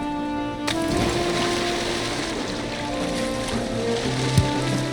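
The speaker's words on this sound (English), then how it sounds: "I wonder how dangerous it is to jump in the water." A character jumps into water by rocky shore in the game Valheim, an abrupt splash followed by a steady wash of waves and surf, with a brief knock near the end.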